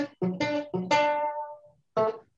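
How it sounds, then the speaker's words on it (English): A short run of notes from the ragtime piece The Entertainer, heard as a few separate, clear melodic notes with brief gaps between them, the longest note ringing and fading before a final note. "It was a song called The Entertainer."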